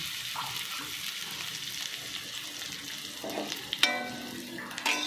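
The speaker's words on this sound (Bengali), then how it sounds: "কড়াতে এক চামচ তেল দিয়েছিলাম তেলটা গরমও হয়ে গেছে তার উপরে এই কুচানো পেঁয়াজ একটা দিয়ে দিচ্ছি" Chopped onion is dropped into hot oil in a kadai and sizzles softly and steadily, with a few sharper clatters and scrapes near the end.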